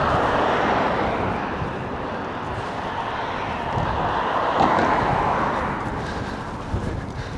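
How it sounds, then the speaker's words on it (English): A plane coming in to land over the South Docklands produces a broad, steady engine roar that stays loud and even throughout, mixed with some wind rumble and with no speech. "Oh, there's a plane landing."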